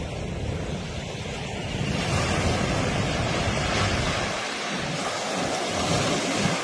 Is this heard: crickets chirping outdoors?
no